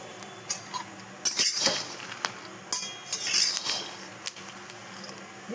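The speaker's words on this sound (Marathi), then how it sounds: "शेंगदाणे बघा असे लाल मस्त भाजून घेते मी." Peanuts roasting in an iron kadhai, stirred with a metal spatula that scrapes and clinks against the pan in irregular bursts, close and fairly loud.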